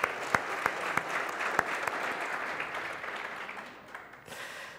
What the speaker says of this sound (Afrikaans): dan kan ons vir jou hande klap